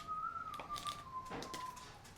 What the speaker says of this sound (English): He's whistling now.